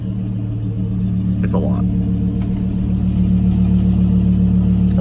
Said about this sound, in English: my exhaust system is always so loud, even at idle